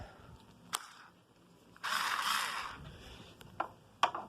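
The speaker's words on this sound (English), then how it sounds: "Good thing I got my handy dandy drill." A short burst of a power drill whirring as it drives a loose screw back into a vacuum cleaner, bracketed by a few sharp clicks and knocks in a quiet room.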